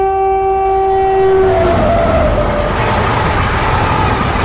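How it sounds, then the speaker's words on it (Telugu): A main-line express train on the Kazipet–Karimnagar railway sounds a loud, sustained horn that falls in pitch as it rushes past, then gives way to a steady roar of wheels and rushing wagons. "ఎంత ఫాస్ట్గా వెళ్తుంది చూసారు కదా ట్రైన్ అయితే"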